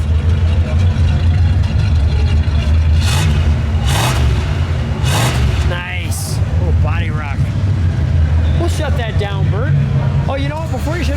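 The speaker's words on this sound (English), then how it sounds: "Can you give it a rev?" A 1976 Buick LeSabre Custom 2-door engine idling with a low steady rumble, broken by a few short revs that swell and fall, while people talk over it near the car.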